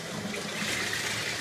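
Water poured over a dog during a bath, a steady close splashing rush that runs without a break, with no talk over it.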